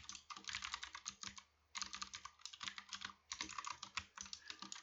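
Steady bursts of computer keyboard typing while code is entered for a SA-MP roleplay game server database, close and clear, with one short pause midway and no voices.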